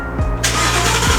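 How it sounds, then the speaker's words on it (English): A stock-exhaust 2018 Mustang GT V8 fires up: a brief starter crank then a steady loud rumble as the engine catches and settles, heard close by with no talk. "You would expect it to be like kind of noisy or somewhat exciting, but no, still stock exhaust."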